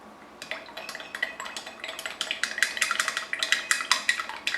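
A spoon stirs purple wool dye in a pot, producing a rapid run of close metallic clinks and scrapes against the pot that grows busier and more rhythmic, with light liquid sloshing and no speech.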